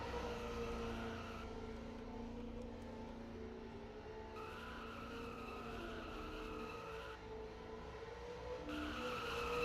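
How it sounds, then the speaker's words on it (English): Cars do burnouts in a racing video game, producing a loud continuous engine drone and a sustained tire squeal that shifts in pitch over the whole stretch. "Hedge will join Nanners in these interesting burnouts"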